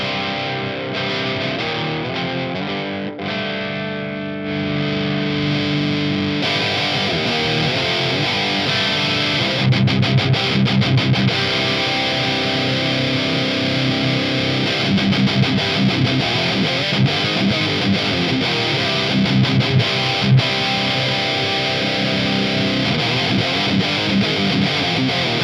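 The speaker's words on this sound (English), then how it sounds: "Let's hear the gain channel, because this is what we all want to hear on this kind of amp." Distorted electric guitar through the gain channel of an ENGL Fireball 60 amp with no boost pedal, playing loud, continuous chugging riffs and sustained chords throughout with no talking.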